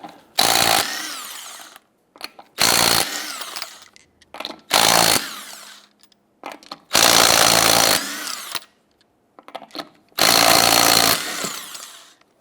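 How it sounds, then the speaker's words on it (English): Impact gun spinning off 19mm lug nuts from a 1997-2006 Jeep Wrangler wheel, five loud, close, roughly one-second buzzing bursts separated by quiet gaps and small clanks, no talking. "Using a 19mm socket, go ahead and loosen and remove your lug nuts."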